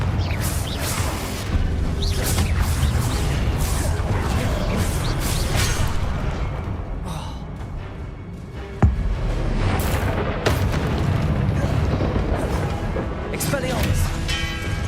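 Confringo blasting-curse explosions in Hogwarts Legacy burst out amid busy spell combat, with one sharp, loud crack standing out midway through a dense wash of booms, whooshes and clatter.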